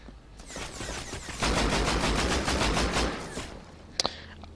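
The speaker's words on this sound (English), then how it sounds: "that is the auto turret in action" An automated turret in the video game Rust fires a sustained, rapid burst of gunfire, loud and steady for a few seconds, then a couple of sharp final shots.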